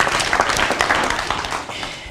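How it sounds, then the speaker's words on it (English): Brief applause at a foundation donation event honoring a principal, a burst of clapping with a few distinct claps that fades out over a couple of seconds. "Can we give him a round of applause for all the work he's doing?"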